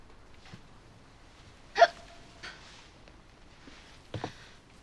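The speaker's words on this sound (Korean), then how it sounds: "죄송합니다만 딸꾹질이 나네요." A man hiccups in a Korean television drama, three short sharp gulping hiccups spaced irregularly across a quiet room, close and distinct, with no talking in between.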